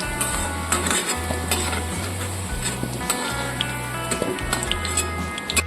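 Whole spices, a dried chili and cardamom, sizzle steadily in hot oil left from frying potatoes, with a spoon stirring and occasional light metallic clinks against the pan.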